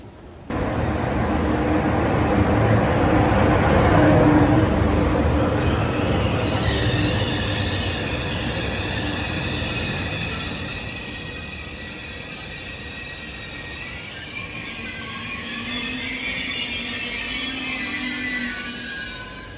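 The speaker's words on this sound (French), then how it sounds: "Nous poursuivons avec un TGV Nantes-Strasbourg que nous prenons jusqu'à Champagne-Ardenne TGV." A TGV high-speed train running from Nantes to Strasbourg, heard as a steady loud rumble and rush of rolling stock with high whining tones rising in the second half, continuous throughout with no talk.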